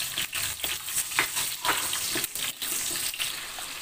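Cashews and raisins fry in ghee with a steady, close crackling sizzle, broken by soft scrapes and taps of stirring; no one talks.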